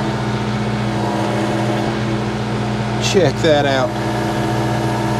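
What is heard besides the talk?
John Deere 4 series tractor engine running while lifting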